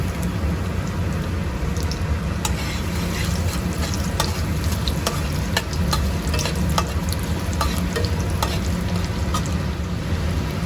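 Chopped garlic fries in hot oil in a wok with a loud, dense, continuous crackling sizzle, punctuated by sharp spatters and a few stirring strokes, close up.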